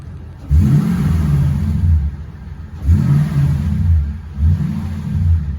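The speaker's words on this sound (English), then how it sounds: "let's hear that sport exhaust, maybe you can hear it" A 2007 Toyota Tundra pickup's sport exhaust revs hard three times, each deep, throaty burst rising and then settling back to a rumbling idle, loud and close.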